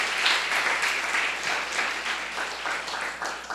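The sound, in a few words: audience applause for visiting young adults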